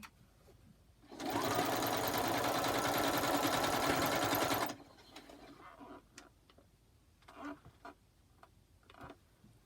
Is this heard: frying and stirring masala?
no